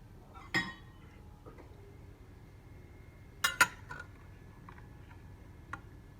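Cutlery and dishes clink a few times while a baked salmon fillet dinner with green beans, broccoli and eggplant is plated: a soft clink early, then a sharper cluster of two or three near metallic taps midway and a faint tap at the end.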